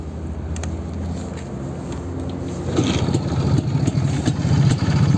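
A 1984 IZh Planeta 3 motorcycle with a freshly rebuilt carburettor and reset ignition idles at very low revs, a steady close two-stroke putter that grows louder and rougher after a few seconds.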